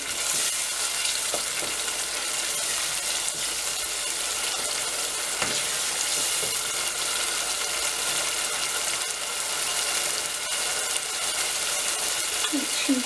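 A Mediterranean-style sour zucchini dish with fresh mint leaves sizzling and frying in a pan while being stirred, a steady close hiss with occasional soft spoon scrapes throughout.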